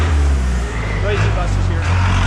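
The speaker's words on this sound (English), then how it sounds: "Noisy buses here." Heavy road traffic rumbles close by, a low engine drone of buses passing along a busy street in Bogota, with a voice speaking over it.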